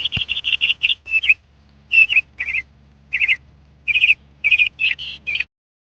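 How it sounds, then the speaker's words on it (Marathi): Birds call from trees outside an ashram, sending out clear, repeated whistled notes in quick bursts with short pauses between, close and fairly loud against a quiet background. "झाडे लावले झाडांमुळे पक्ष्यांचा किलबिलाट ऐकायला येतो"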